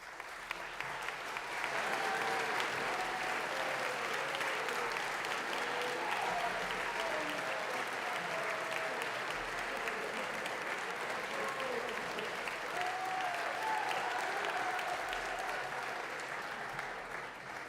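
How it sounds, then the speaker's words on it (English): A school community fills a chapel service with long, sustained applause for a musical's cast and crew, a thick, steady roar of many hands with occasional cheers, continuing evenly throughout. "to stand to take the applause of the rest of the Shawnigan community"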